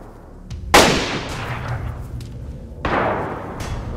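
Two sharp gunshots in DayZ Standalone ring out a couple of seconds apart, fired from a castle, each with a long echoing tail, over a quiet low rumble.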